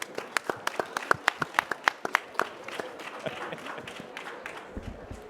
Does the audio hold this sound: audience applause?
yes